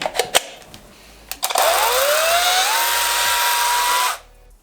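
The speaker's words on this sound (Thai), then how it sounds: "ก็จะเป็นเลื่อยโซ่แบบนี้" A few sharp clicks, then a small cordless chainsaw on an 18V battery buzzes up to speed and runs steadily for a couple of seconds before cutting off.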